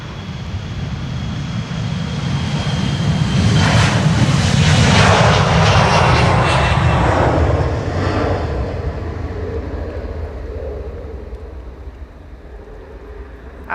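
Jet airliners, a Boeing 787-10 and an Airbus A350-900, depart from runway 36L, the Polderbaan at Schiphol. The loud engine roar swells to a peak, then fades slowly as the aircraft climbs away.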